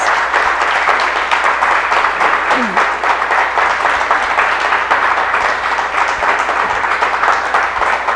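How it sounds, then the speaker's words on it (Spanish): Loud, sustained applause from a church congregation at a Sunday service, steady dense clapping filling the whole stretch. "Dense un fuerte aplauso, por favor, para ustedes"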